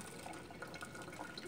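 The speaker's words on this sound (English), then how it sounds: "Now, time to pour out the water." Boiled water being poured off macaroni, a soft, steady splashing and trickling with faint drips, fairly quiet and continuous for a moment.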